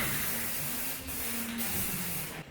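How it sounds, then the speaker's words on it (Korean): An aerosol can sprays silver paint onto the weld joints of a container house, a close, continuous hissing spray with one brief break midway before stopping. "이거를 어디에다 뿌리냐면 용접 부위에다가 뿌려줍니다"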